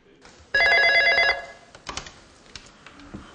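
Telephone ringing at a dispatch service for visually impaired people, one loud electronic ring burst lasting under a second, followed by quieter room noises and faint speech.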